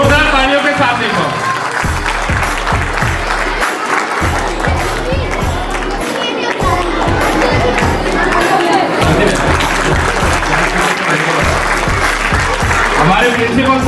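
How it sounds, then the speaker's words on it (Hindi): Loud applause and some cheering from a crowd at a college event, continuous and dense, with a pulsing music beat and voices running underneath throughout. "जोरदार तालियों के साथ देखो।"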